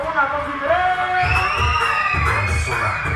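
A crowd of voices at a fair shouting and cheering together loudly, with high whoops rising over a dense, excited roar.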